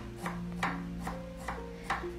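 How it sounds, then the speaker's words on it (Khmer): A kitchen knife finely chops four lemongrass stalks in a Khmer home kitchen, five sharp, evenly spaced cuts on a board. A faint steady tone runs underneath. "អង្គុលស្លឹកគ្រៃចំនួន4គល់យើងហាន់វាឲ្យល្អិតល្អិត"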